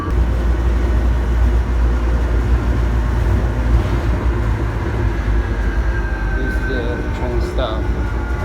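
Steady heavy rumble of a train pulling into a station near Taipei, Taiwan, with squealing brakes toward the end and a faint voice in the background.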